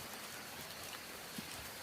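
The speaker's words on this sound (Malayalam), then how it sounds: "അത് മാത്രമല്ല ചെറിയ ചാറ്റൽ മഴയുണ്ട്." Light drizzle falls outdoors at dusk over damp soil beside a cooking pit, making a faint, steady, even hiss of rain with no other sounds.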